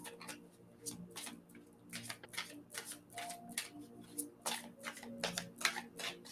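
Tarot cards being shuffled by hand in a run of quick, crisp riffling bursts, close and fairly quiet, with soft speech underneath.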